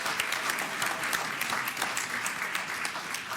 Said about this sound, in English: Let's give another round of applause to our Office Depot Students of the Month